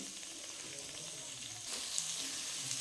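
Chopped onions sizzle steadily in oil and butter in a pan for a butter paneer curry, a continuous close frying hiss that grows slightly louder partway through, with no talking.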